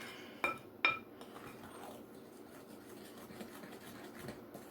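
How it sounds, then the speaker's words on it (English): Spoon stirring thick chocolate walnut brownie batter in a bowl: two bright clinks of metal on the bowl near the start, then soft scraping and rubbing of the dense mixture, quiet and close, no talk. "we're going to go ahead and mix maybe half of this in with the wet ingredients. I'm going to use this spoon"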